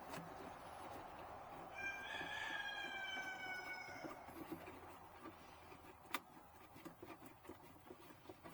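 A rooster crows once from a little distance amid steady background noise, followed by scattered faint clucks and knocks, no talk.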